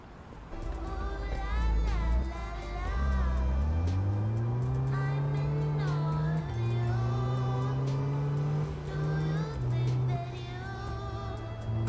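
A car engine hums and rises through gears while driving on a road in America, a loud, steady drone climbing in pitch with brief shifts, close to the cabin with faint background chatter.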